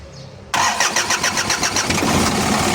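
A misfiring car engine cranks and catches abruptly, then runs loud and close with a rough, uneven idle that pulses and stumbles.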